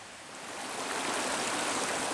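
Steady rushing water of a small stream at the headwaters of Hampton Creek on a farm, a broad even hiss that swells slightly and continues close and alone.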